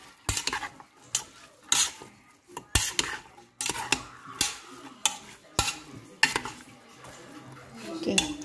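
Meat and chopped vegetables are stirred in a pan, with a string of close, sharp scraping and clanking strikes of utensil on metal, roughly one or two a second, over a faint low sizzle and no talk.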